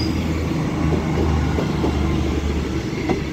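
A CrossCountry Class 221 diesel train passes through Stockport station, its engine rumble loud and continuous, with faint rail clatter and wheel noise. No one talks over it.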